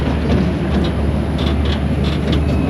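A tram ride through NASA Space Center Houston, a steady loud rumbling drone of the moving vehicle with a constant hum and faint intermittent rattles throughout.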